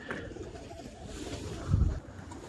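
Soft racing pigeon coos rumble low in the background, with one fuller coo near the end over a steady ambient hum.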